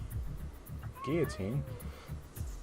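A cat meows in the puzzle video game Bad Rats, a pair of drawn-out, wavering cries in the middle, with someone talking around them and low game sounds underneath.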